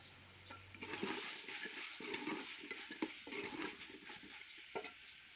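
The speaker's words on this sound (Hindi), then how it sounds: "इसको साथ में अच्छे से फ्राई कर लेंगे, भून लेंगे मसाले में" Potatoes and black-eyed beans fry in masala, a quiet sizzle with soft, irregular stirring scrapes and occasional clinks of a spoon against the pan, heard alone.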